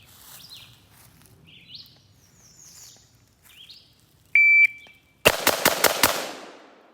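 Five rifle shots fired at 5 yards crack in a quick, even burst near the end, loud and close, after a brief electronic beep from a shot timer.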